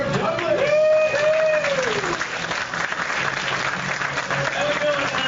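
Audience at a live comedy show applauding to welcome the evening's host and MC, loud clapping with some cheering and crowd voices, tapering off near the end.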